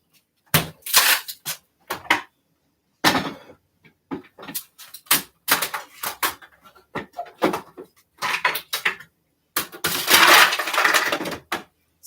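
Ice cubes cracked and twisted out of a tray for a strawberry almond-milk smoothie, heard as a series of loud, close, irregular cracks and clattering bursts separated by short pauses.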